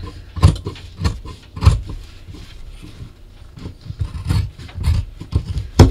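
Scissors trim through three layers of cotton and fringe for a Harmony bag, giving a run of close, rasping snips and rubbing cuts in an uneven rhythm with short pauses between bursts.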